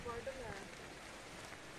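Faint, steady rain patter falling outdoors on a mountain hike, a soft continuous hiss with a voice briefly audible.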